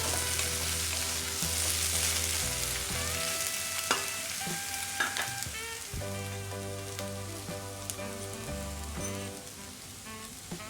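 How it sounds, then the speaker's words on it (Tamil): Potato and brinjal pieces sauté in a hot pan, giving a steady close sizzle and crackle throughout, with occasional stirring scrapes and no talk. "அப்படியே விடாமல் கொஞ்சம் கொஞ்சம் நல்லா வதக்கிக்கிட்டே இருக்கணும். விட்டு விட்டு வதக்கிக்கிட்டே இருக்கணும்."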